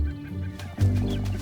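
Male greater prairie chickens booming at a mating display, air forced through orange neck sacs to make deep, resonant low hoots; a booming call swells loud and close midway, with faint bird clucks around it.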